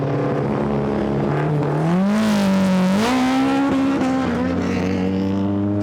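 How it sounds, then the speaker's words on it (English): A Group A racing car rolls onto the grid at Goodwood, its loud engine note climbing and dipping as it revs through gears, close and dominant with no voices over it. "So the car's coming round to sit on the grid"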